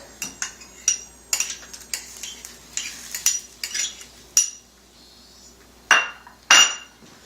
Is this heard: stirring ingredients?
yes